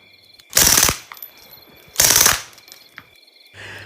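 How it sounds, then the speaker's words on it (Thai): Two loud bursts of automatic rifle fire from a Thai opium-war battle, each about half a second of rapid shots, separated by a short pause, then a faint low rumble. "ผมเหนียวไกยิงอย่างไม่เลี้ยงด้วยระบบอัตโนมัติ"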